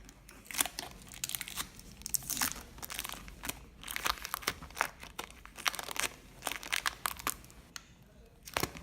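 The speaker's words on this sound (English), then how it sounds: "now I'm going to peel it off the helmet and see what it looks like on the other side" Hardened mould being peeled off a motorcycle helmet gives close, irregular crackling and tearing bursts with short pauses between them.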